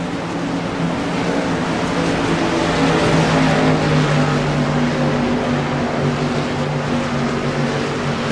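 Race cars and a pace car on the track at Daytona International Speedway, a sustained, droning engine roar with steady pitch held close for the whole stretch and no voices heard.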